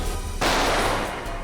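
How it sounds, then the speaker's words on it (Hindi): A single loud gunshot, fired indoors by a lone robber inside a vault area, bursts out sharply and then rings into a broad, sustained blast of noise that slowly fades, with no voices over it. "सर हम लोग गोली की आवाज सुनकर बहुत डर गए थे"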